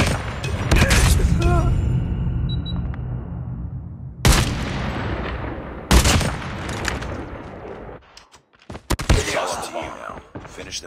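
Gunfire in a Call of Duty match: sharp, loud shots and bursts in clusters with short gaps, some booming impacts, mixed with game voices and talk.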